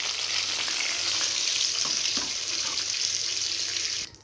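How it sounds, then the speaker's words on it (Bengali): Onions and two or three green chillies fry in oil, making a loud, steady sizzle with a few soft stirring scrapes before it cuts off abruptly. "ওই তেলে আমি পেঁয়াজ আর 2-3টা কাঁচা লঙ্কা ছিল, আমি দিয়ে দিলাম। দিয়ে একটু ভেজে নিব"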